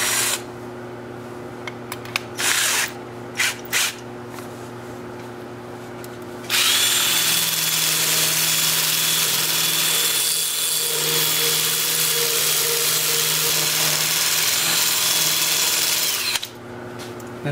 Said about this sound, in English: with the lathe spinning in reverse, still at about 320.